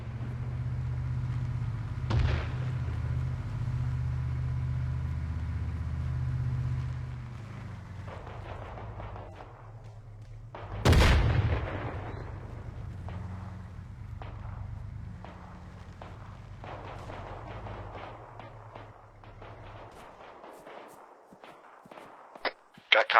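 Distant video-game artillery thumps under a low rumble, with one loud close blast in the middle and scattered footsteps and shuffling afterward.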